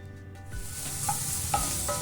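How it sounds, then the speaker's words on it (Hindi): Capsicum and onion, the vegetables for veg manchurian, sauté in a hot pan: after a quiet instant, a steady close-up sizzle rises and holds, with occasional clinks from stirring. "अब हम पहले इसमें डाल देते हैं शिमला मिर्च और थोड़ा सा इसे हम सॉटे करते हैं"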